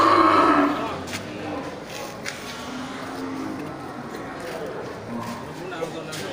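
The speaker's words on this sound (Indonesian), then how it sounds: "Ya, ini sapi Aceh" A loud low moo from Aceh cattle opens the scene at a livestock market in Geurugok, fading into a busy background of distant animals, faint knocks and crowd murmur.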